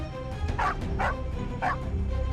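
A dog gives three quick, loud barks close by, spaced about half a second apart over a low continuous background rumble.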